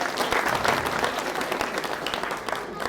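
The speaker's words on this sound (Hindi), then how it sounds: "एक बार जोरदार तालियां अपने लिए।" Loud, sustained audience applause after a Ramleela stage performance in Udhampur, dense clapping filling the whole stretch with some crowd voices mixed in.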